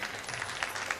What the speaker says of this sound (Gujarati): આ સન્માન વખતે આપણે જોરદાર તાળીઓથી આ સન્માનને વધારવાનું છે.